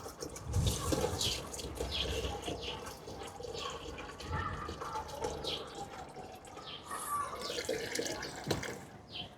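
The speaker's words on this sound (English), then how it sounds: "I'm just going to take this container and go and fetch us some water from the JoJo." Water runs from a JoJo rainwater tank into a container outdoors, a steady splashing gush with uneven spatters and clatters throughout.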